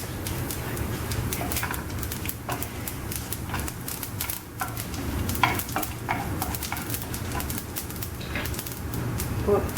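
Urad dal tempering frying in a pan with oil, a soft steady sizzle and crackle with scattered sharp pops and stirring clicks throughout, fairly quiet and without talk.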